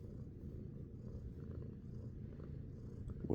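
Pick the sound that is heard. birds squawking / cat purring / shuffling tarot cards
cat purring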